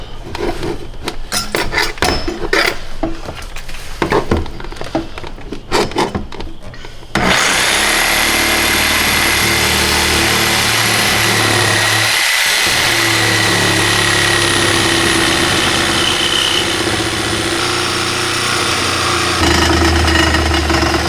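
Cutoff wheel chopping through part of a car body on a Corvette project car, with a loud steady high-pitched grinding whine that runs nonstop for about fourteen seconds after a stretch of harsher rattling cutting noise.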